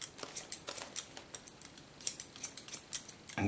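Scissors snip wet hair freehand during a boy's haircut, a quick irregular series of crisp close snips, fairly quiet, with no voices.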